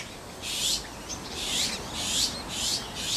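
Azure-winged magpies call at the nest in a series of about five short, bright, harsh bursts, evenly spaced over a faint hiss of background noise.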